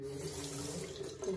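Shower water pours steadily at full pressure in a house bathroom in Nicaragua, a continuous broadband hiss that stays loud and even throughout without a break.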